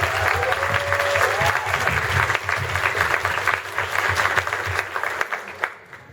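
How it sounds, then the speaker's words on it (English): An audience at a Comic Con panel claps in sustained applause, loud and steady throughout before fading at the end. "Give them a big round of applause, please, everyone."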